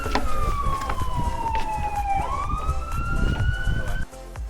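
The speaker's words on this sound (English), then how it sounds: "Hearing sirens in the Abacos is definitely something that's a little bit strange" A police siren wails in the Abacos, Bahamas, its pitch sweeping steadily down and then back up over a few seconds, loud and continuous above a rumbling outdoor background.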